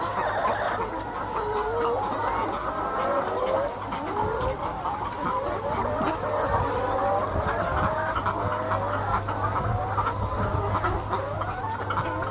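Isa Brown laying hens about one month into lay cluck steadily in a farm coop, a dense overlapping chorus of clucks and squawks close by with a constant low hum underneath.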